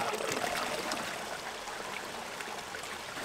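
Water runs steadily from a fully opened tap into a natural hot spring bathtub outdoors in winter, giving a continuous close splashing rush with no pauses.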